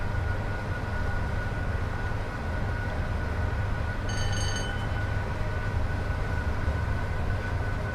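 A Class 86 electric locomotive in Train Sim World 5 runs steadily at speed on the West Coast route toward Penrith and Carlisle, a continuous loud rumble and hum with a brief high tonal whine midway.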